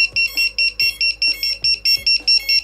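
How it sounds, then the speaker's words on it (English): A loud, shrill electronic buzzer from an FPV racing drone's lost-model alarm beeps in a steady repeating pattern of about ten short pulses, close and alone with no talking. "This is a loud buzzer."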